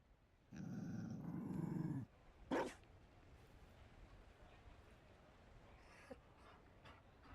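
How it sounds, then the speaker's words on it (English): A Mabari war dog from a video game growls low and close for about a second and a half, then gives a short sharp bark or huff, leaving quiet room tone with faint small noises afterward. "You found a dog? They don't breed Mabari in Olay."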